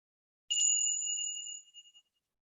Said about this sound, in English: when I ring the bells again